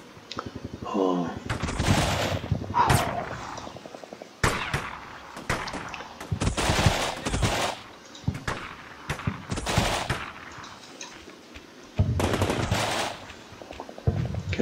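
Bursts of automatic and single-shot gunfire in Combat Mission Shock Force 2, a Marine ambush at dusk, come in repeated loud volleys with short gaps between them.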